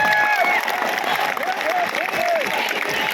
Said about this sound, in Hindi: तालियां रुकनी नहीं चाहिए, एक बार जोरदार तालियां होनी चाहिए।